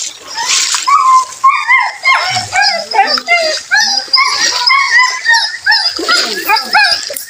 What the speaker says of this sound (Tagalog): Yan ang aso ko, si Tagpi.